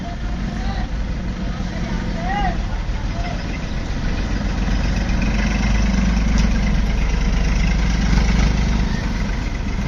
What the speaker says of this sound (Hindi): ट्रैक्टर जा रहे हैं, मोटरसाइकिल जा रहे हैं।